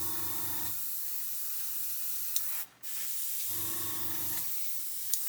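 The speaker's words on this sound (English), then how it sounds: "we need to come in from the angles and spray into the edge of the tape" An aerosol spray paint can hisses in two long, steady bursts onto a taped stencil edge, loud and close, with a brief pause between the bursts.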